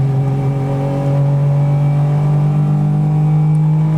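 Two-stroke Saab at full throttle in third gear climbing a slight uphill grade, its engine holding a loud, steady buzzing drone close by for about four seconds, with no one speaking.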